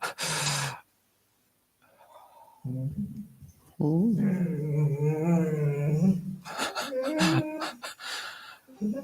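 A dog lets out a drawn-out, wavering whine or howl close by, with huffs and gasping breaths before it and a voice talking around it.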